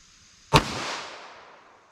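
A single 9mm Hornady Critical Defense round fires from a 5-inch barrel outdoors, one sharp loud crack followed by a fading echo tail.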